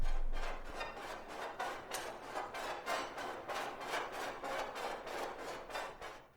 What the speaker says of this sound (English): So I use this dishwasher sample and it sounds like this.